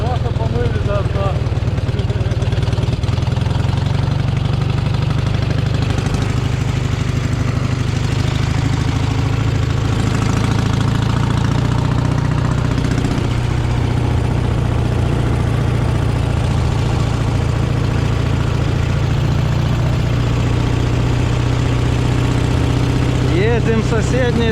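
A Dnepr MT-11 motorcycle engine idles steadily outdoors at close range, keeping a constant low rumble throughout while people talk over it.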